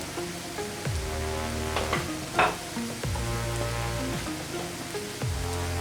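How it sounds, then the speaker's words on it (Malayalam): Onions sautéing in a pan with turmeric powder stirred in, giving a steady close sizzle with repeated scraping stirs of a spoon, no voices. "സവാള വഴന്നു വന്നിട്ടുണ്ട് അതിലേക്ക് നമുക്ക് ആവശ്യത്തിനുള്ള മഞ്ഞൾപ്പൊടി ചേർക്കാം"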